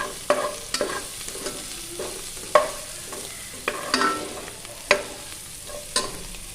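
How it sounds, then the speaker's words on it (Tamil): Sliced onions sauté in a pan with a pinch of asafoetida for a South Indian brinjal kadaisal, a soft frying hiss broken by a series of scraping stirs of the spatula every half second to second, close and steady, with no voices. "வெங்காயம் நல்லா வணங்கினோடனையும் கொஞ்சம் பெருங்காயத்தூள் கொஞ்சம் தூள் ஆட் பண்ணி நல்லா வணக்கிக்கலாம்"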